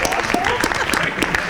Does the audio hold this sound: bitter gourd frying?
no